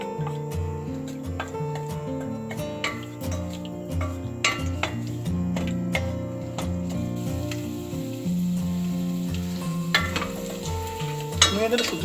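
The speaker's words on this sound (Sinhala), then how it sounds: "තෙල් ටික රත් වෙනකොට ඊට පස්සේ මම කරන්නේ මුලින්ම දාගන්න සුදු ලුණු ටික." Garlic frying in hot olive oil in a saucepan gives a steady, close sizzle with light stirring and occasional utensil ticks against the pan, with no talking.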